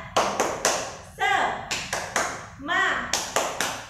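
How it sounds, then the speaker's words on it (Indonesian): A class of schoolchildren claps a quick rhythmic pattern, sharp claps grouped into bursts, with voices chanting along between them. "kita tepuk semangat dulu yuk. Tepuk semangat."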